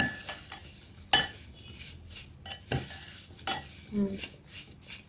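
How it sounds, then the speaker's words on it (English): A spoon stirs sugar and cinnamon in a bowl for an apple cake, giving soft scraping swishes broken by a few sharp clinks of metal against the bowl. "Sugar and a teaspoon of cinnamon and mix them"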